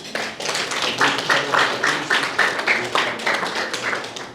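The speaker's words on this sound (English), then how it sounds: "Give yourselves a round of applause." Wedding guests at Luke and Yvonne's celebration clap for themselves in distinct, rhythmic bursts, sounding like a modest group clapping fairly close by, with individual claps standing out rather than blending into a roar.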